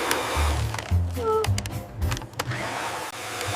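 A handheld electric hair dryer whirs with a fluctuating motor whine and rushing airflow, rising and dipping in pitch over a few seconds at close range, with no talking.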